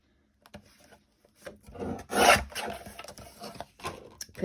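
A paper trimmer slices off a strip of paper for a journal, a brief close scraping cut after a few soft handling taps, fairly quiet, with no talk.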